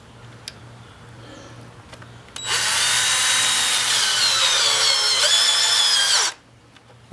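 A power drill drives a screw into 4x4 lumber for a firewood rack, whining loudly and steadily for about four seconds up close before cutting off abruptly.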